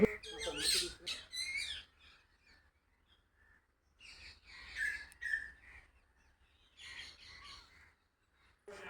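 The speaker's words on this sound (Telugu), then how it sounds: "అప్పుడే సన్సెట్ అవుతూ పక్షుల సౌండ్స్ చాలా పీస్ఫుల్గా అనిపించింది" Birds call at sunset in a village orchard with jackfruit trees, giving scattered chirps and squawks in several bursts separated by near-silent gaps.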